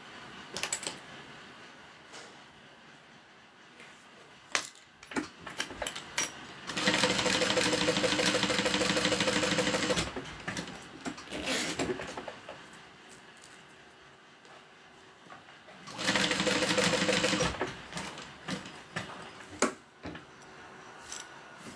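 A modified Aries sewing machine heard up close runs in two loud, steady bursts of fast mechanical stitching, separated by quieter stretches of handling clicks and fabric rustle, with no speech.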